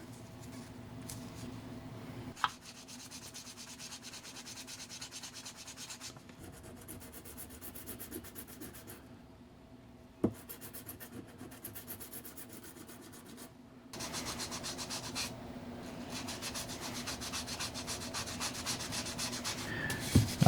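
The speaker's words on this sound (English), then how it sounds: "I'm using some 800 grit sandpaper to try to remove any of the blemishes in the surface." Fine 800 grit sandpaper rubbing over a cast pewter hood ornament, a steady close scratchy hiss with two brief knocks, growing slightly louder and brisker toward the end.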